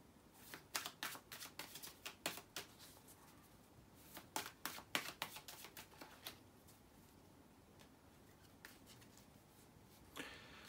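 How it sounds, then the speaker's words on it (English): Tarot cards are shuffled by hand close up, a quiet run of crisp riffling slaps and flutters in uneven bursts, tapering off before one last soft shuffle near the end. "let me shuffle the cards and see what you got"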